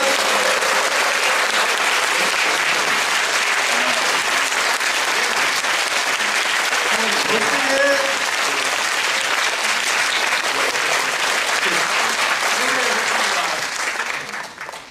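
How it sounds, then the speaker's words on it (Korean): A Korean talk-concert audience at an agricultural policy forum claps rapidly and furiously for about fifteen seconds, a dense, loud, unbroken roar of hands that holds steady before tapering off at the very end, with faint voices underneath. "지금부터 15초 동안 미친 듯이 박수를 치도록 하겠습니다."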